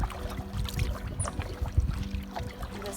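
A canoe paddled through calm water in a provincial park, soft irregular splashes and drips of the paddle strokes close by, with faint wind in the background.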